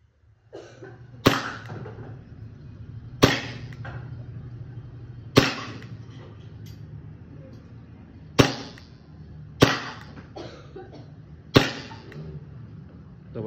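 A WE G34 gas airsoft pistol fires six sharp single shots spaced about two seconds apart, each a crisp close crack over a low steady background hum.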